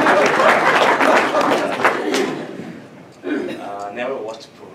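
Round of applause at a Rotary Club meeting, clapping loudest at the start and fading out, followed by a speaking voice after a short lull.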